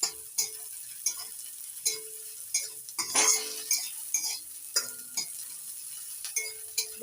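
Chopped chili, onion and crushed garlic fry together in a pan for a jute leaf and lentil dish, with a faint sizzle under repeated distinct spatula scrapes and metallic clinks at an irregular rhythm.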